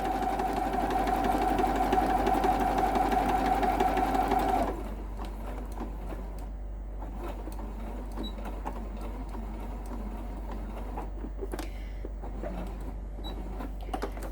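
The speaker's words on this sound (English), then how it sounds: "it's better to do a little bit of a reverse and then just sew down to the end" A sewing machine stitches a seam on a large mountain retreat bag, its steady motor hum running loud and even for about five seconds before stopping, leaving faint rustling and small handling sounds.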